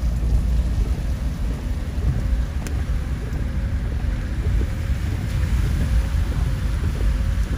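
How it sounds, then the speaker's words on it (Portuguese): Heavy rain pours down in a constant dense roar on a flooding avenue in Macaúbas, Bahia, with low rumbling thunder mixed into the steady downpour. "Muita chuva mesmo nesse momento."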